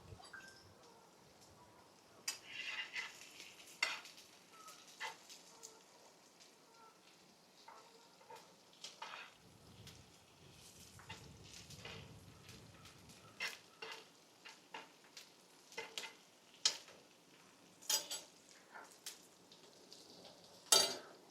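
Hot charcoal is stirred around in a grill after the bratwurst is lifted off. Faint scraping, crunching and scattered clicks are heard close by over a soft background sizzle, with occasional louder knocks.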